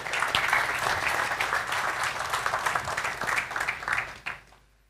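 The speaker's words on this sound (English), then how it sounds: "We can begin with an applause." An audience applauds after a conference talk on IT security threats, a dense steady wash of clapping for about four seconds that then trails off quickly.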